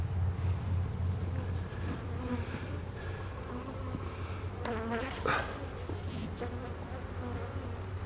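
A dense, steady hum of honeybees rises from brood frames in an open nuc box, with a low continuous drone and a few sharper close wingbeats passing by, no talking.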